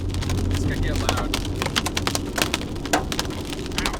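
Hail pounding a car's roof and body while driving through a supercell's hail core near Sterling City, Texas: dense, steady drumming of many sharp impacts over a continuous low roar from road and engine.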